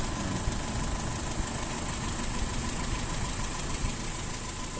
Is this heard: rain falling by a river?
no